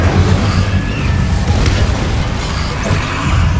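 An Incendio fire spell cast in Hogwarts Legacy lands as a loud, deep, rumbling blast that surges and swells continuously, with heavy low-end boom throughout and no voices heard.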